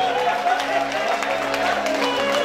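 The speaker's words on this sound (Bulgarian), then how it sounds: "Аплодисменти за булката!" Wedding guests applauding the bride, a steady wash of crowd clapping with a musical drone underneath and some chatter mixed in.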